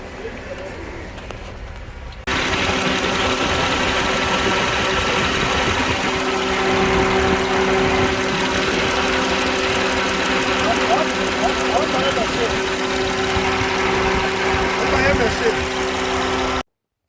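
A car engine idles roughly with a multiple-cylinder misfire, a steady low rumble with uneven shaking pulses starting after a quiet opening and running continuously, close and fairly loud, with rain in the background.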